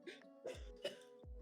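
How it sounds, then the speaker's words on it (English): A few short, harsh coughs, about three bursts spaced roughly evenly, fairly close and moderately loud, with no talking in between. "Someone coughing?"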